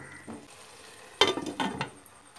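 Metal lid set onto a pan of frying fish fry masala, a sharp clatter followed by a few smaller rattles and clinks over a faint sizzle.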